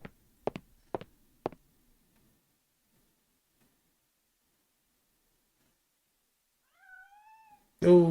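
A cat in the PS2 video game Shadow of Destiny gives a short, rising meow after a few sharp clicks and a long silence, followed immediately by a loud burst at the end.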